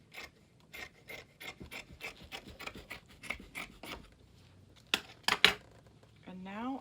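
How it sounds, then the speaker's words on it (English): Fabric edge of a cosplay dress being trimmed with scissors, a quick rhythmic series of close rasping snips, then a few sharper cuts and a brief rustle at the end. "I'm just going to trim down this edge here."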